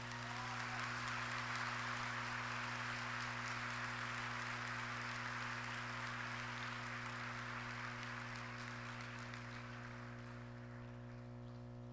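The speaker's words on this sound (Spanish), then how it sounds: "Vamos a darle un fuerte aplauso a Jesús por su amor" A church congregation claps together in a steady, dense burst of applause that carries on for about twelve seconds, loud and continuous before easing slightly toward the end, over a low constant hum.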